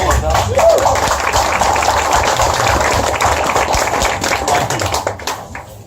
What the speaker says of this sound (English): so can we just have a big round of applause for Ola?